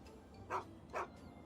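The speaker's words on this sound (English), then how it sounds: "Woof woof." Two short dog barks from the video game Fallout 3, evenly spaced about half a second apart, faint and alone over a low steady game ambience.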